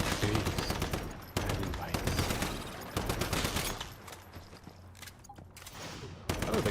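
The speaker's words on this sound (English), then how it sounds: "Oh, the guns actually do seem to be shooting." Guns firing in the video game Once Human, a dense run of rapid gunshots over the first few seconds, then sparser bursts with game ambience, loud and close.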